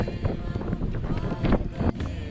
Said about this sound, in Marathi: काय हवा आहे ना रे